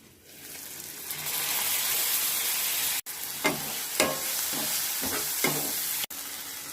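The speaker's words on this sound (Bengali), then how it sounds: "এবার এটাকে ভালো করে নেড়ে চেড়ে আমি এটাকে একটু ঢেকে দেবো।" Shrimp and spinach frying in a pan with chopped tomato, turmeric and salt, a steady broad sizzle broken by several distinct scraping stirs of a spoon against the pan; no voices.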